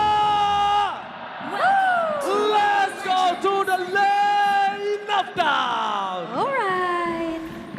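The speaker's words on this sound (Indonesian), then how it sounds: "Mana tepuk tangannya?" A crowd at an esports grand final in the Jakarta International Velodrome cheers loudly. Whoops and sustained yells rise and fall in waves, close and full, with shouting voices layered over one another rather than distinct clapping.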